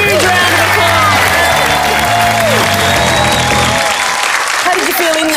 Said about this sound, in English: Give Tom another huge round of applause.